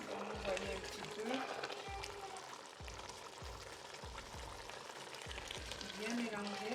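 Eru and spinach are stirred in a pot for Cameroonian eru. A spoon knocks and scrapes in an even rhythm, about one stroke every second, over a soft simmering sizzle.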